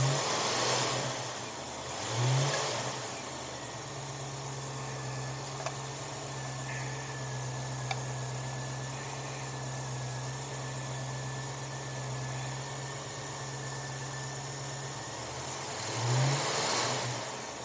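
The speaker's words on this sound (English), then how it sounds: "When I open up the throttle on the carburetor," A 1973 Mustang convertible engine idling steadily, with a throttle opened at the carburetor bringing a rising rev near the start and another near the end, heard close with no talking.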